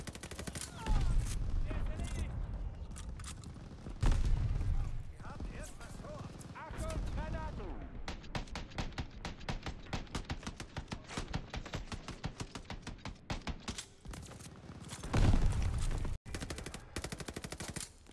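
Machine gun fire in the video game Call of Duty: Vanguard rattles in dense rapid bursts, loud and close, with heavy booming explosions at intervals and voices speaking over the combat.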